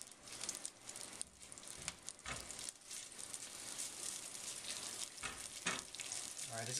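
Curry paste frying in oil in a hot pan for curry shrimp, a steady close sizzle with crackles and spatters, occasional stirring scrapes breaking the hiss.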